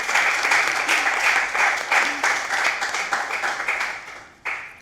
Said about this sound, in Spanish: ¿La aplaudimos a la autora